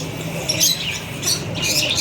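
Faint pigeon calls, short squawks and chirps, come in a few brief bursts over quiet background noise.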